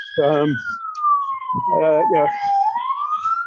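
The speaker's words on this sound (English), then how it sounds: "you probably hear sirens," A wailing siren sweeps slowly down and back up, steady and fairly close, while someone talks over it.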